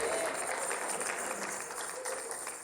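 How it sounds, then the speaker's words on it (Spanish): A church congregation applauds together in a steady, dense wash of clapping that fills the whole moment, loud and even without pauses. "Dale un aplauso al Señor."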